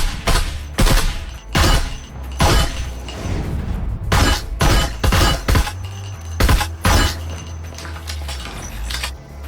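An SMG fires in the Breachers VR game on Meta Quest 3, with loud, sharp bursts and single shots repeating irregularly over a low background hum.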